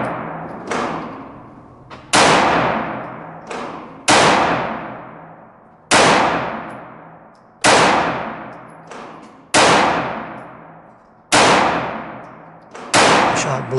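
Glock 43 Gen 4 9mm pistol firing at a range, eight sharp loud reports spaced one to two seconds apart, each with a long decaying echo, no talk.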